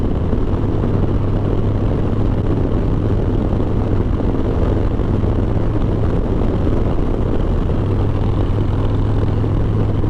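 Harley Davidson motorcycle cruising at 65 to 70 mph on a highway, a loud steady roar of wind buffeting over a low engine drone, unbroken and close for the whole stretch, with no voices.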